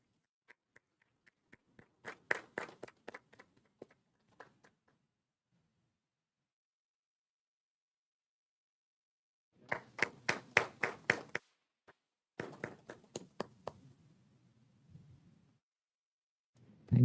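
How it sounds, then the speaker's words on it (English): A small group claps in two separate bursts for regional quiz competition winners at a panel event, with sparse, uneven claps at first and louder, fuller rounds later, separated by a quiet gap. "So big round of applause for them."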